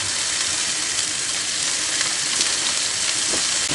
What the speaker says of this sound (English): Get her seared up.